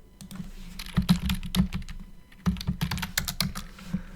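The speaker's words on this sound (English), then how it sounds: "and here type Eclipse ID download." Quick, uneven clicking of typing on a computer keyboard, close and clear, in short bursts with a brief pause midway and no voice.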